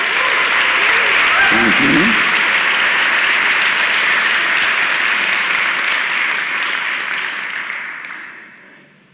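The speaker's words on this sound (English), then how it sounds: "can we give him a round of applause" An audience at a lecture on psychedelics bursts into loud, sustained applause to welcome the speaker, with a brief spoken thanks early on, then the clapping fades out toward the end.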